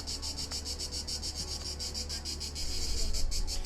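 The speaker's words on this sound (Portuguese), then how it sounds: "você conseguiu pegar a cigarra?" Cicada buzzing near a chestnut tree in Provence, France, a steady loud insect drone with fast pulsing beats, rising slightly toward the end, with no voices.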